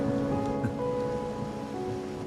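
Rain falling in the video game Wuthering Waves, a steady soft hiss of rainfall with a faint low hum beneath, continuous and even for a couple of seconds.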